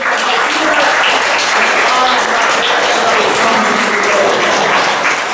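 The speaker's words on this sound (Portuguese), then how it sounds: "Uma salva de palmas." Loud, continuous applause from a church congregation during a Brazilian Easter Mass, a thick unbroken roar of clapping with voices mixed in beneath it.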